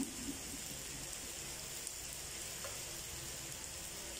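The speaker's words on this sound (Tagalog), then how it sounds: "Okay, grill muna tayo guys." A pork chop sizzling on a grill, a steady dense hiss like light rain holding at an even level for a few seconds with no pauses.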